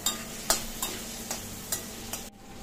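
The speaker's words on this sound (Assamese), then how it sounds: "দি গোটেইখিনি ভালদৰে লৰাই দিছো" A spoon scrapes and knocks against a pan in a regular rhythm, about six strokes, stirring food with salt and turmeric powder over a soft steady sizzle.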